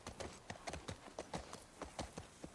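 Horse hooves clip-clop at a steady trotting rhythm in the video game The Last of Us Part II, close and clear with nothing else over them.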